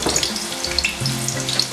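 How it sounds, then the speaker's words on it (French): Chopped onions sizzle in already-hot oil for a salt cod sauté, a steady close crackle with scattered pops throughout and no talking. "Et l'huile est déjà chaude. Je vais commencer par mettre des oignons, un petit peu."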